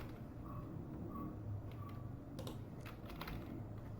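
Quiet close typing on a computer keyboard, a brief run of soft clicks toward the end against a faint room hum.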